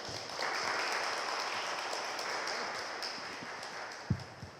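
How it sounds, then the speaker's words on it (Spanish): An audience applauds guests of honor at an art talk, a broad, moderately faint wash of clapping that holds steady and then thins toward the end, where a few isolated knocks and taps sound. "para quienes les pido un gran aplauso"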